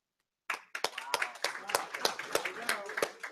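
After a brief silence, an audience breaks into a round of applause for an app in a developer contest, scattered sharp claps with some cheering and voices mixed in, lasting a few seconds.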